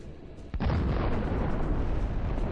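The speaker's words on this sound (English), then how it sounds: "A precision drone hit causes a massive detonation." A Russian tank explodes after a precision drone hit, a sudden loud blast followed by a sustained heavy roaring rumble that fills the rest of the moment.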